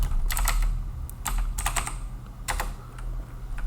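Someone types code on a computer keyboard, clusters of quick key clicks in short bursts separated by brief pauses, close and clear over a low background hum.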